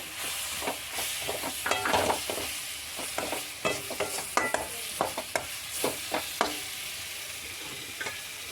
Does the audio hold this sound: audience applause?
no